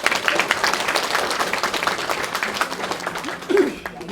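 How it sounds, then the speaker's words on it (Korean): Audience members at a lecture clap together in a lively burst, the brisk claps thinning over a few seconds, with a little laughter and a voice speaking near the end. "박수 한번 치시죠"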